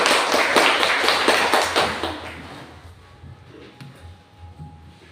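Students in a classroom clap together, a loud, dense burst of hand claps at the start that thins out and fades over several seconds into quiet room noise with a few scattered taps.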